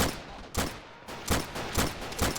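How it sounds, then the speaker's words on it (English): Rapid broadband bursts of gunfire and blasts in the video game Army Men: Plastic Wars, several sharp cracks roughly every half second, loud and close, with no voices. "Looking back over, there are explosions and shootings."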